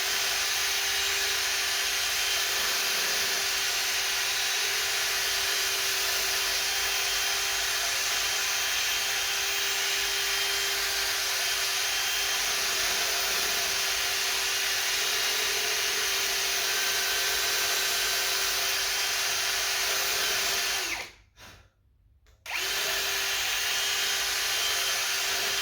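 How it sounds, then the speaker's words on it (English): A slightly larger flap disc wheel on a power tool buffs out a bore in an HQ GTS Coupe chassis part, a loud, steady abrasive whir running almost unbroken before briefly cutting off and resuming. "So this one's a slightly bigger flapper disc wheel"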